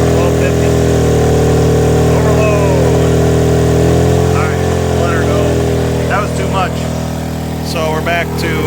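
A WEN 56235i inverter generator runs under load with a steady mid-pitched engine drone whose speed shifts slightly, while someone talks over it.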